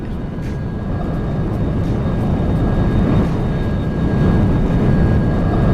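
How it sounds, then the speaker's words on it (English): Default X-Plane flight simulator aircraft engines drone steadily, a loud continuous low rumble with a faint high whine on top, unbroken and without talk. "They've had the same default X-Plane engine sounds since X-Plane sort of 10."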